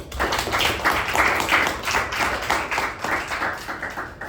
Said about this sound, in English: Let us give them both a thunderous round of applause.